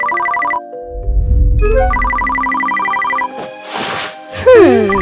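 A mobile phone ringtone plays in bursts of repeating electronic tones, loud and close. It breaks off partway, with a low rumbling sound in the gap and more sounds following after the tones.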